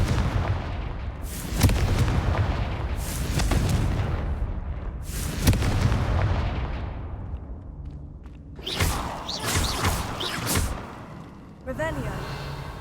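Repeated casts of the Confringo explosive spell in the Hogwarts Legacy video game, heavy booming blasts with whooshing tails roughly every couple of seconds, loud and close, with a voice speaking between them.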